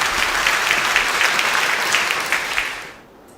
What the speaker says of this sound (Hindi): कंट्रोल पैनल, तालियां बनती हैं।